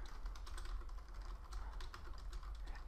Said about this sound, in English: I could type whatever I want in here.